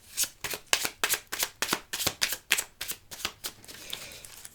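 Tarot cards are riffled and shuffled by hand in quick, evenly spaced bursts, about a dozen crisp flutters close to the mic, with no talking.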